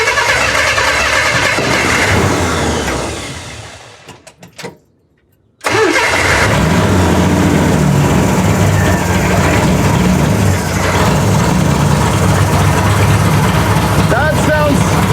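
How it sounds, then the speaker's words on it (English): A custom car's engine cranks roughly on a bad starter with a likely flywheel fault, cuts out briefly, then catches and settles into a steady, loud idle with a harsh, uneven tone, while people talk nearby. "I got to cover my ears for the starter. It's so bad."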